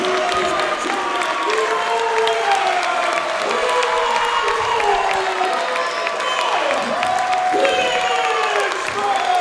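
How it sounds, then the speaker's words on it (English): A wrestling show crowd roars with steady cheering, applause and scattered whoops and shouts, loud and continuous throughout with no break. "the crowd is on fire"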